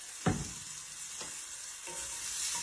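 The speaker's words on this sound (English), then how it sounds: "I think those are sauteing up nicely" Vegetables for steak fajitas sautéing in a pan, a steady soft sizzle with a few louder scrape or stir bursts from a utensil, close by, no talk.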